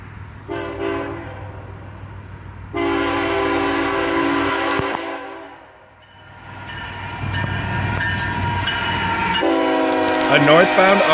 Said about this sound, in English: This train also gave us a nice little horn show.